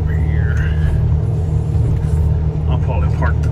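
A truck engine idles and rumbles steadily at close range during hay hauling with a round bale trailer, a constant low drone, with faint higher tones above it and a voice speaking in places.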